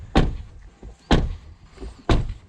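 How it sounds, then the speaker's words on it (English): A Tesla Model 3 door is shut three times without its weather seal, each a sharp, hollow thunk with a short rattling decay, evenly spaced about a second apart and heard up close. "Let's first show you what it sounds like to shut the door without the seal."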